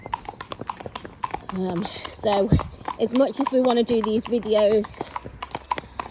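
Horses' hooves clip-clop on a main road while out hacking, a steady run of sharp knocks near at hand, heard under continuous nearby talk.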